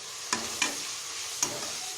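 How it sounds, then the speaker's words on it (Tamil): Onions sautéing in oil in a pan, a steady close sizzle with three sharp stirring scrapes spaced through it, and no voices. "ஆனியன் நல்லா இப்போ வதங்கிடுச்சு."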